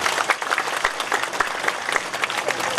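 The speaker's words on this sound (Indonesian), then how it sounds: "Tepuk tangan untuk Desa Sambirente." An audience at a village ceremony in Sambirenteng, Bali, claps continuously, many hands in a dense, fairly loud patter that holds steady throughout.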